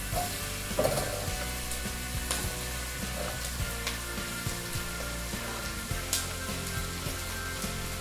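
Peppers and garlic sizzle steadily in a pot for vegan chili, with repeated scraping stirs and clinks of a utensil against the pot throughout, close and moderately loud with no talking.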